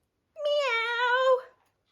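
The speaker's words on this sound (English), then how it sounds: "Meow." A single cat meow, clear and close, rising then gliding down over about a second in a quiet setting with nothing else around it.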